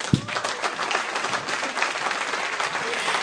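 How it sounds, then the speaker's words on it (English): An audience at a women's church gathering breaks into steady, sustained applause, a dense wash of many hands clapping heard fairly close and continuing evenly for a few seconds. "Let's give her a warmer round of applause"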